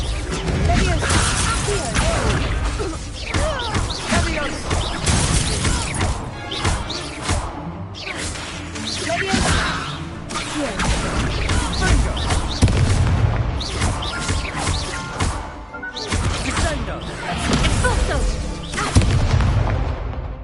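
Repeated booming blasts and crashes from a Hogwarts video game's explosion spell go off in quick succession over about twenty seconds, loud and dense, with bursts of game dialogue mixed in.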